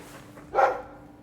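A single short, sharp bark from a dog in the fantasy role-playing game Dragon Age II, heard alone and fairly close against a quiet background.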